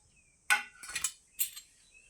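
A metal spoon clinks against a bowl while mixing spices into mango pickle: a few sharp taps and scrapes, close and clear, in an otherwise quiet room.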